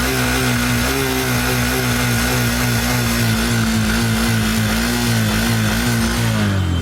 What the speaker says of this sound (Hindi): हॉर्नेट का साउंड सुनेंगे, इंजन की आवाज़ सुनेंगे